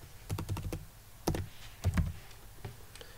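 Keys on a computer keyboard tap in short, uneven bursts, close and fairly quiet, with light clicks and thuds and no talking.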